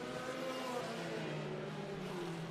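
Stock car race cars pass one another on a track, the Minions car among them, in a steady, continuous engine drone at moderate loudness that holds throughout with no one talking.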